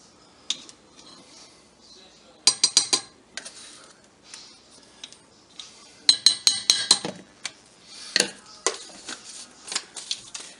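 A teaspoon clinks against a container while garlic powder is measured for a homemade pepper sauce: scattered bursts of light, close metallic taps and rattles spread over several seconds, with quiet gaps between.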